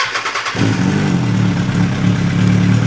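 A Kawasaki ZX636 motorcycle cranks briefly with a rhythmic starter chatter, fires up, and settles into a loud, close, steady idle.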